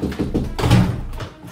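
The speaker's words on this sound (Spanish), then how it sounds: "Llaman a la puerta." Knocking on a door in a horror-style animated story, a few short dull thumps heard close and fairly loud over a dark background.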